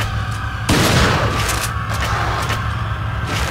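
A semi-automatic gun fires in a video game battle, a loud boom opening a rapid run of sharp shots over a steady low rumble of game ambience.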